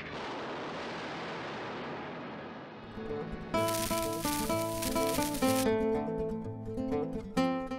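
A battle explosion from a John Wayne war film: a long rolling blast rumbles for about three seconds, then orchestral film music swells in and carries the rest.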